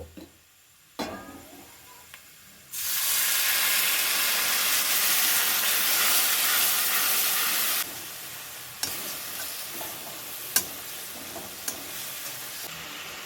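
Ground cumin, coriander and chilli powder frying in a pan burst into a loud, steady hiss when water is poured in. The sizzle holds strong for several seconds, then drops to a softer crackle broken by a few sharp knocks.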